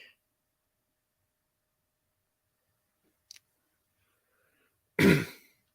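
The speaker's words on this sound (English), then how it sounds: "Sorry, I coughed." A single short cough bursts out close by after a long near-silent pause, preceded by a faint tiny click; one person alone, no talk.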